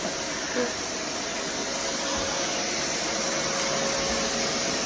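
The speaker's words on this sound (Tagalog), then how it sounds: "Sige tanaw sa vacuum." A vacuum cleaner runs steadily nearby during carpet cleaning, a loud continuous whining roar that holds without a break throughout.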